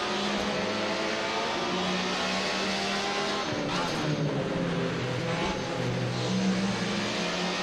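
A BMW E36 race car fitted with a Judd V8, driven on a hill climb in Assetto Corsa, roars continuously at high revs, with a steady loud engine tone, gear changes and some wheelspin squeal, and no talk.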